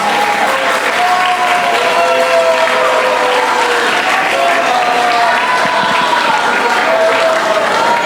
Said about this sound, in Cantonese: 有請1C 班俾掌聲鼓勵中一嘅同學好唔好啊